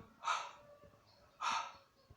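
A voice imitates panting with two sharp, breathy exhalations about a second apart, quiet and close.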